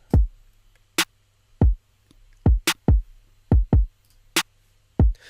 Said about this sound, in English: we have a kick and a snare, and both of these sound like this.